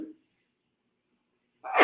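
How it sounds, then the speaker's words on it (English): A single sudden sneeze bursts out near the end after a short bit of breath and silence, close and loud, set off by bright lights during a fitness class introduction. "I'm going to sneeze because the lights."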